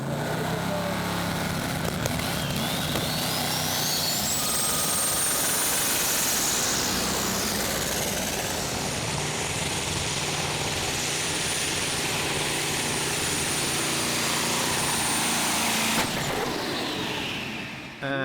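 A tractor in a 2.5-ton class tractor pulling run at Herning, Denmark, powered by an Iveco engine converted to methanol, roars loud and continuous for the whole pull with a rising whine, ending abruptly near the close.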